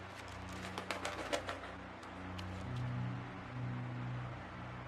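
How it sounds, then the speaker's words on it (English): Canary Island laurel pigeons cooing in a laurel forest, soft low repeated coos in the second half, with brief bird chirps and rustling earlier and a steady faint hum beneath. "pigeons, unique to the Canary Island laurel forests,"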